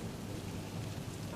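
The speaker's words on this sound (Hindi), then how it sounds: "इतने में बारिश शुरू हो जाती है।" Steady rain falling on a street where a woman sells spicy aloo parathas from a cart, a soft continuous hiss with low rumbling beneath, faint and unbroken.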